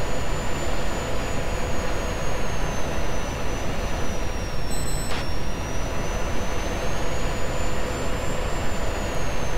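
A steady, loud F-16 jet engine roar from the Falcon BMS 4.33 flight simulator game fills the whole stretch as a continuous, unbroken drone, with no voices over it.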